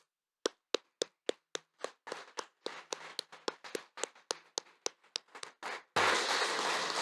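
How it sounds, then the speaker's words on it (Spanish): A church congregation at a Sunday service claps in unison, about twenty sharp, evenly spaced claps in a steady rhythm, then breaks into a sudden loud burst of sustained applause. "Denle un fuerte aplauso a Jesús."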